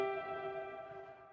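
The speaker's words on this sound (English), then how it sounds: "the reverb is that echoey kind of thing that's happening" A single sustained piano chord rings out and slowly fades, its tail smeared by a wide echoing reverb.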